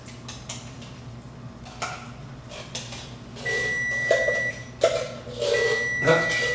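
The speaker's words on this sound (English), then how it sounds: "There's our timer." A kitchen timer sounds with steady electronic tones partway through, twice, over the clatter of dishes and utensils while beans go into a pot of chili.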